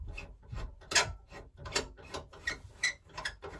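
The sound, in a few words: ultrasonic vinyl record cleaning machine being raised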